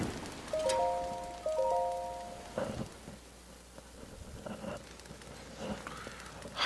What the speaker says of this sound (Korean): 헐 비와.